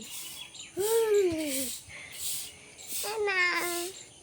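A parrot gives several loud, warbling squawks with rising and falling pitch, in two bursts separated by a short pause, close and clear.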